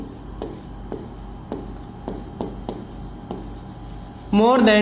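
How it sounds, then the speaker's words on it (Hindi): Marker or chalk strokes on a board during a NEET plant morphology lesson, a series of short scratchy taps and strokes close by, followed at the end by a louder burst of squeaky writing. "इसकी डिफिनेशन लिखते हैं पहले।"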